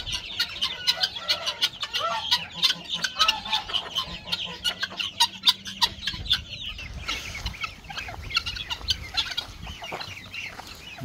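Hens and small chicks in a coop, a busy mix of clucking and rapid high peeping that keeps going throughout, close and fairly loud, with no talking over it.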